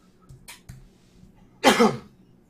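Single sharp, loud sneeze following a few faint breaths and small noises, alone in a quiet room during a live gaming tournament stream.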